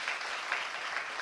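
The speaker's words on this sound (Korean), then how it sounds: "박수로 맞아주시기 바랍니다." Faint, steady applause from an audience welcoming Mr. Kimball at a panel discussion on peace and arms control, a soft continuous patter of clapping heard from some distance.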